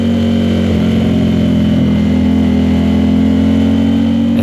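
An Aprilia RS660 with a CRT exhaust holds a steady, loud, high-revving engine note at full throttle on a racetrack straight at Barber Motorsports Park, droning continuously close to the microphone.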